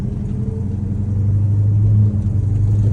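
A 1970 Dodge Charger R/T SE cruises down the road with its engine giving a loud, steady, deep rumble from inside the car, with no speech.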